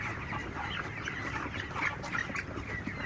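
Broiler chickens in a poultry house fill the air with dense overlapping clucks and chatter, a steady busy flock at moderate volume with no talking.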